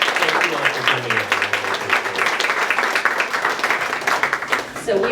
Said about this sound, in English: let's all give Alex a round of applause